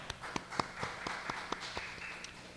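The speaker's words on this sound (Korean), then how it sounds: "우리 생일 축하 박수 드리겠습니다" Birthday applause from a church congregation during a Sunday service: a quiet run of separate hand claps about every quarter second, fairly faint and sparse, with no talking over it.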